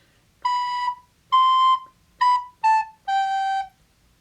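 Five clear, pure whistle-like recorder notes, B C B A G, played one after another, moving up a step and then stepping back down, each held briefly with short gaps between.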